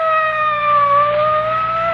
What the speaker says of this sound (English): It's a police car. It's going that way, toward the Lansing house.